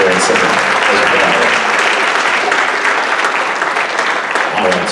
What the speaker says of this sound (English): So can we get a big round of applause for all of our band boosters?